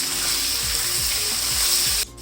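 Chicken karahi frying with turmeric and red chili being stirred in, a loud continuous sizzle broken by a few scraping stirs, ending abruptly in a short quieter moment.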